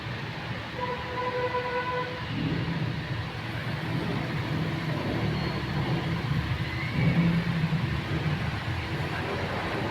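A Toyota Rush engine idles steadily with its drive shaft spinning, a continuous low rumble with faint mechanical whine holding at even loudness throughout, no voices.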